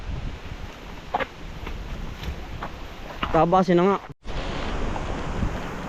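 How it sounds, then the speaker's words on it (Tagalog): Strong typhoon wind blows through a coconut grove where undergrowth is being cleared, a loud rushing roar with gusty buffeting. Someone speaks briefly partway through, and the sound cuts out for an instant before the wind resumes. "Ang hangin delikado sa palapa. Pagkakalakas."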